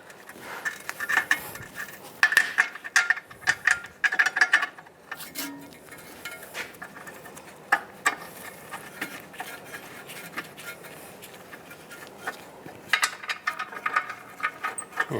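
Bolts being snugged on a strut mount and bearing kit of a 1998-2010 Volkswagen Beetle, with close, quiet metallic ratcheting clicks and clinks of a tool and hardware in short irregular bursts.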